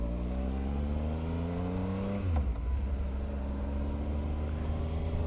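A 2019 Triumph Speed Triple RS, the top 1050 triple-cylinder motorcycle, revs its engine, the pitch falling as it drops back to a steady rumbling idle, recorded close with no talking.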